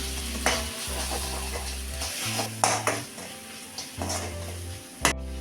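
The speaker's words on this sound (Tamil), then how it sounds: "இது எல்லாத்தையும் நல்லா மிக்ஸ் பண்ணி விட்டுக்கலாம்" Steady sizzling from a pan as a utensil stirs spices through thick tomato masala, scraping, with a few sharper clinks against the metal.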